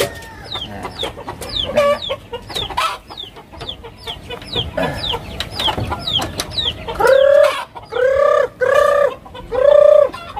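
A flock of farmyard chickens clucks in quick, close bursts, then a rooster's loud drawn-out calls repeat several times near the end.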